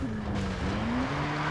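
A car in the video game Far Cry 3 skids through a jungle, a steady engine drone with a rising, squealing tire tone, loud and close throughout with no crash impact evident.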